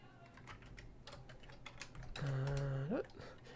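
Fingers tap out a quick, irregular run of clicks on a computer keyboard at a desk, moderately close, followed by a brief sustained voiced tone near the end.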